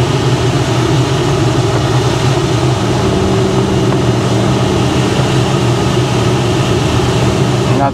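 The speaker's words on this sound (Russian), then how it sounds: "это воздушные тормоза так поют" Air brakes of a DG 500 M motor glider whistle in flight, a steady loud tone sitting over continuous engine-like drone and airflow noise throughout.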